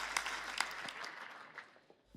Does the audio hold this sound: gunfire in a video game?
no